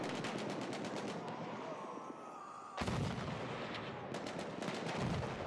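Gunfire in the World War II shooter Hell Let Loose during an Xbox One tournament match: loud, rapid bursts of shots layered over dense battlefield noise, with a short quieter gap before the firing surges back.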